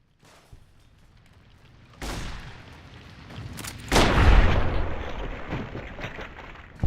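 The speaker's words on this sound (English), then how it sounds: "Nuka grenades for the win." Nuka grenades detonating in Fallout: Tale of Two Wastelands, a quiet lead-in then two big successive blasts, the second louder and deeper, rumbling and crackling for seconds afterward with no talk.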